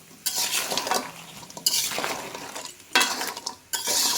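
Crabs coated in turmeric and salt fry in a pan, stirred in rhythmic bursts: scraping, clinking strokes over a bright sizzle, close and fairly loud with short pauses between stirs.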